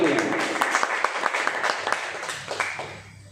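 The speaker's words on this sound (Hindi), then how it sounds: "सर के लिए बात जोरदार ताली बजाएं" Crowd applause for a speaker at a direct selling business meeting in Khacharod, a burst of many hands clapping with sharp irregular peaks that thins out toward the end, a low hum running beneath.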